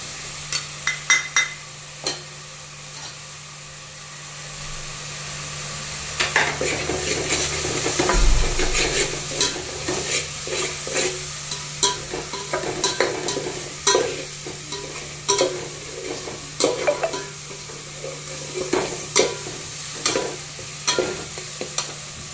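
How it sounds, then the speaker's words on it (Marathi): Onion and grated coconut sautéed and stirred in a pan for a village-style misal: a steady low sizzle with repeated scraping, clinking stirring strokes that grow busier and louder after the first few seconds, close up with no talking. "इथं आपलं कांदा आणि खोबरं परतून झालेलं आहे"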